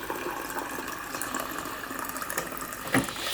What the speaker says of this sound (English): I'll just get some water.